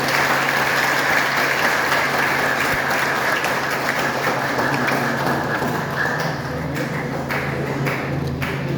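Standing ovation at a school ceremony marking a collège's tenth anniversary, sustained dense clapping from a large crowd that continues steadily throughout and thins slightly toward the end, with a few scattered louder claps.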